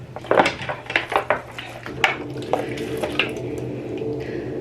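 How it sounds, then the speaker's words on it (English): Water drains from a sink while a clean dish brush scrubs inside, with loud clattering knocks of dishes and utensils, irregular scrubbing bursts and a steady trickle underneath, close up with no talking. "now I'm gonna let all the water out and start doing like a scrub in there with just like a dish brush that is clean"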